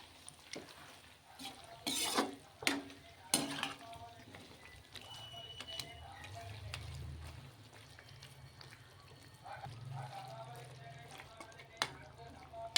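Chicken pieces being stirred and tossed with gongura in a frying pan, clattering spoon scrapes and clanks early on, then a softer, steady sizzle with more scraping, all close by.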